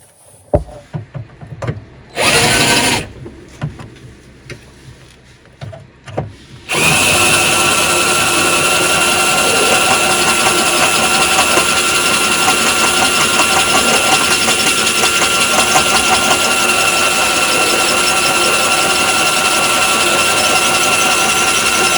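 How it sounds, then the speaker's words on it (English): After a few short bursts, a power drill fitted with a cut-down flat drill bit runs continuously at high speed with a loud, steady whine and grinding buzz, while making panels for an S13 restoration. "It's a flat drill bit that's been cut down."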